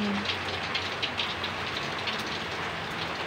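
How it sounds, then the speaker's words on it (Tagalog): Heavy rain pours steadily on a foggy morning, a dense, even hiss with no breaks, loud and close throughout. "Ang lakas ng ulan."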